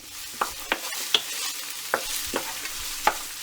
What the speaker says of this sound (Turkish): Şöyle sadece tatlı kaşıkla bir iki karıştırıyoruz.